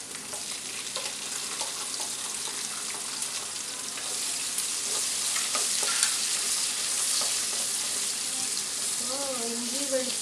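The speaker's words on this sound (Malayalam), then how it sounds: "ഇഞ്ചി, വെളുത്തുള്ളി, പച്ചമുളകെല്ലാം നന്നായി വഴറ്റിയാൽ" Ginger, garlic and green chilli sauté in oil for a Kerala mussel pickle, a continuous loud close sizzle with faint stirring and a brief voice near the end.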